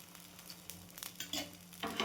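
A dosa cooks with ghee on a griddle and gives off a soft, steady sizzle with small crackles and pops. The sound is faint and continuous, with no talking.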